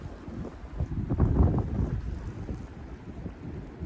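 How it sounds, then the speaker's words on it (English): Blizzard wind in Iowa buffets the microphone in loud, gusty rumbles that rise and fall throughout, with no voices. "Winds are absolutely whipping right now."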